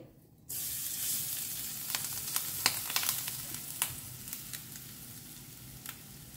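Two teaspoons of ghee, cooking on a gas stove for modak filling, break into a steady loud sizzle in the pan, with sharp spitting crackles scattered through it.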